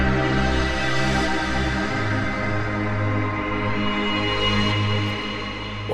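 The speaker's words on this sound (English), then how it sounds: "we'll use it on this pad sound that I've put together" A warm synth pad from UVI Sampleist holds steady sustained chords with no rotary effect, smooth and even, alone at moderate level with a slight fade near the end.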